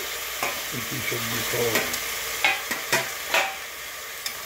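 Vegetables such as beans and carrots stir-fried in a pan, a soft steady sizzle with a few sharp scrapes and clacks of a spatula stirring, close by, no talking.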